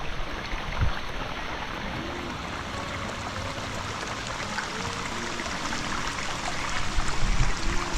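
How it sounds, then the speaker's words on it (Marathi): Water rushes steadily along a small stream called Sheetal Nala, a continuous loud broadband gurgle and splash heard close by, with no talk. "शीतल नाला, हे बघा पाणी"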